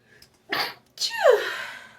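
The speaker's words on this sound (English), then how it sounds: "About to sneeze." A person sneezes once, loud and close: a short breathy intake, a pause, then a sharp burst trailing into a drawn-out vocal tail.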